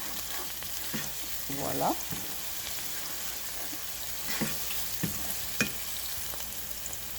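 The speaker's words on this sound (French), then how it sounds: "je vais le mélanger jusqu'à ce que mes oignons soient tendres" Onions fry in a pan while a spoon stirs them, giving a steady soft sizzle with intermittent scraping and clinking strokes, heard up close; a voice speaks a single brief word.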